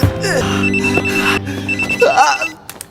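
A telephone rings loudly and close for about two and a half seconds, a steady electronic tone repeating, then stops as the clip trails off.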